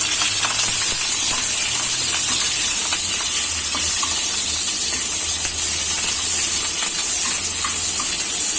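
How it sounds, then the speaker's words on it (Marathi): Long green chillies fry in a hot kadhai with a steady, loud hissing sizzle that runs unbroken throughout, with no voices. "आता ह्या मिरच्या आपण कढईमध्ये टाकूया. चांगलं परतून घेऊया."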